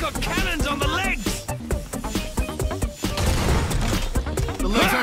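Leg-mounted cannons on a giant robot in a video game fire in rapid, booming bursts, loud and close, mixed with excited talk throughout.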